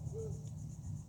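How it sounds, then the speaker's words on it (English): Crickets at night at Grassy Waters Preserve, a faint, steady high trilling over a soft low background hum, quiet and brief. "The crickets are already chirping."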